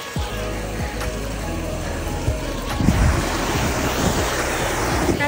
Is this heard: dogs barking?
no